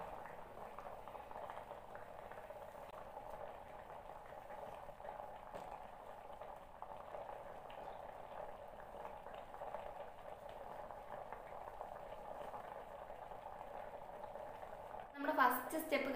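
Water boils inside a facial steamer with a faint, steady bubbling hiss that holds unchanged for a long stretch before a brief clatter near the end.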